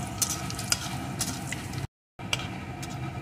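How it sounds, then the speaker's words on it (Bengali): One dried red chili and whole cumin seeds fry in hot oil as a tempering, making a dense, steady sizzle with light crackles and stirring ticks, briefly cut off by a short silence. "এখন এই তেলের ভিতরে ফোড়নে দিয়ে দেব একটা শুকনো লঙ্কা, কিছুটা গোটা জিরে।"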